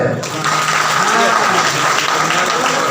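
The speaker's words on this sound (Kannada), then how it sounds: "ಚಪ್ಪಾಳೆ" A crowd at a devotional story performance claps steadily for a few seconds, the applause mixed with murmuring voices.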